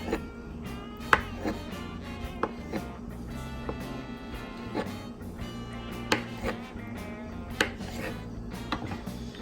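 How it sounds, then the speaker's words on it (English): A knife slicing a block of tofu into even slices on a cutting board, a series of soft, irregular taps and cuts close by over a low steady background hum. "We're going to slice it up, nice even slices, and then we're going to season them."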